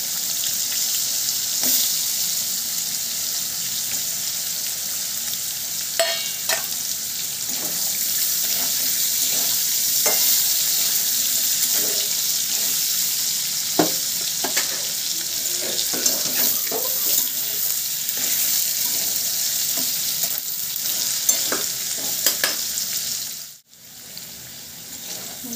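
Long-cut potato strips frying in hot oil, giving a loud, steady, close sizzle with scattered crackles and light scrapes throughout, dropping out briefly near the end.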